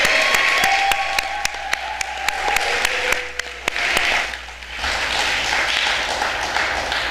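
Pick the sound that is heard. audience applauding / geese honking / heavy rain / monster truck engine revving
audience applauding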